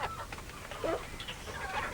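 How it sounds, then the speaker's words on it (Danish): Rooster clucking on a countryside farm, a few soft short clucks over low background ambience, fairly faint and without talk. "Og den derovre, det er hanen."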